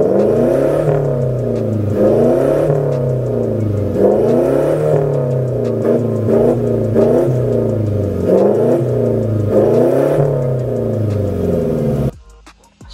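A Toyota Tamaraw engine fitted with a TRX full exhaust revs repeatedly up and down, a loud, close, throaty rhythmic roar in regular surges before cutting off abruptly near the end.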